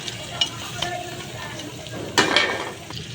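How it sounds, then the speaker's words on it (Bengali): Prawns tipped into a pan of lightly browned onions, frying with a steady sizzle broken by a few stirring scrapes and a louder burst of crackle as they hit the hot oil. "পেঁয়াজটা হালকা লাল হয়েছে, আমি এখন এখানে চিংড়ি মাছ ঢেলে দিয়ে দিই।"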